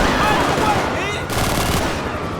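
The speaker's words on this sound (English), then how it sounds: "Weapons finally sound loud and impactful, much closer to how they would in real life" Loud rapid gunfire from modded weapons in GTA 5, dense bursts of shots crackling and echoing continuously in a chaotic firefight.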